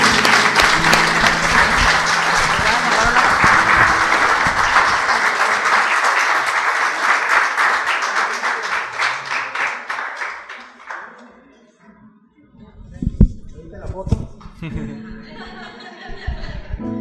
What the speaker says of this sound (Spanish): vamos a dar otro aplauso al Señor